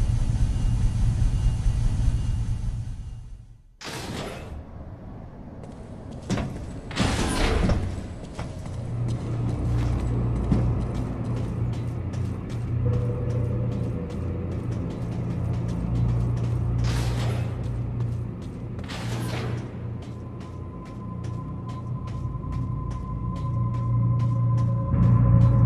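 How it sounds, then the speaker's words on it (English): An elevator bound for Sector 1 in Metroid Other M hums and rumbles steadily as it travels, with a few sharp mechanical clanks and whooshes along the way and a low drone continuing throughout. "This elevator is bound for Sector 1."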